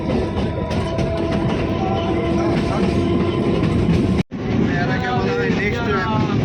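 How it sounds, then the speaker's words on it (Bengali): Steady, loud rumble of a train running along the rails, with faint rhythmic clatter throughout and a brief dropout near the middle; voices murmur faintly. "এখন আমরা ট্রেনে উঠে গেছি"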